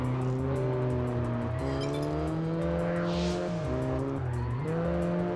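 Lotus Exige and Noble M400 sports cars racing in Test Drive Unlimited, close engine drone with shifting revs and gear changes, plus a brief tire squeal partway through, loud and continuous.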